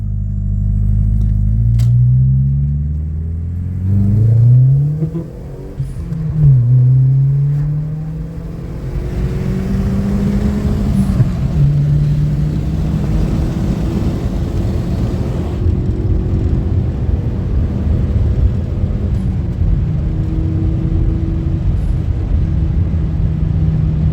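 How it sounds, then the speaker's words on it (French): A tuned Audi A3 1.8-litre turbo engine revs hard and shifts through gears up close, with a faulty turbo blow-off whoosh as the throttle lifts. "La décharge du turbo, c'est pas bon. On l'entend bien."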